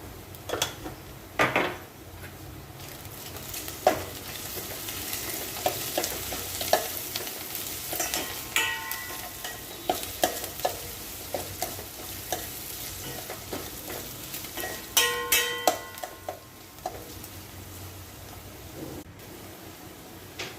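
Onions fry in a pan for a taro root stew while a utensil stirs them, giving a constant sizzle with frequent scraping and clattering strikes against the pan, close and without speech.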